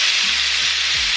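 Chicken for tikka masala searing in a frying pan with a little oil, a loud, continuous close-up sizzle and hiss.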